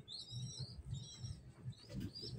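Pigeons in a loft, with soft low cooing pulses repeating steadily through the clip and a few faint higher chirps and wing rustles over it, all near and moderately quiet.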